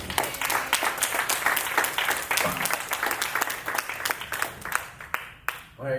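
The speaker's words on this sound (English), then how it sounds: "give a round of applause to your special guest" An audience at a live talk event applauds for a special guest, a steady patter of many hands clapping together that fades out near the end.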